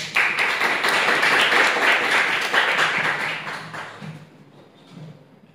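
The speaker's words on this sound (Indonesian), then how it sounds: "Aplaus ya" A classroom audience in a civic education class claps together, a loud steady round of applause that holds for several seconds before thinning out and fading away.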